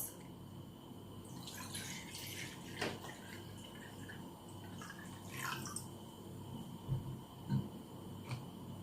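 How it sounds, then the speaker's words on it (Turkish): One litre of water is poured out while making bleach with a dissolving tablet, heard as faint, quiet splashing and scattered drips over a soft background hiss. "1 litre suyumuzu döküyoruz."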